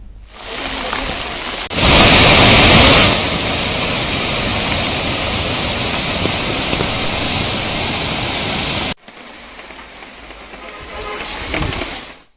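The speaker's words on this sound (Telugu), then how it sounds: "భారీ వర్షాలు కురుస్తున్నాయి. దీంతో వాగులు వంకలు పొంగుతున్నాయి." Heavy rain and overflowing streams during Cyclone Montha give a loud, steady roaring wash that swells briefly near the start, then cuts to a quieter stretch of rain toward the end.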